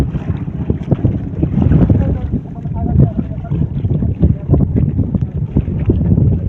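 Strong wind at the sea buffets and roars against the microphone in steady gusts, with a voice speaking faintly underneath.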